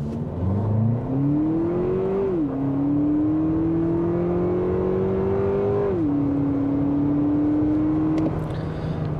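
A 2024 Lexus TX 350 Premium AWD with its turbocharged four-cylinder engine at full throttle, revs climbing loudly and steadily with two distinct drops at gear shifts, engine close and dominant.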